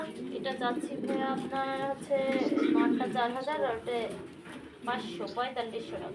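Pigeons coo at a pigeon farm, including a pair of stencil male and red Lahori female, their low throaty calls sitting beneath someone talking loudly nearby for most of the stretch.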